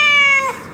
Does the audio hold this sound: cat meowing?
yes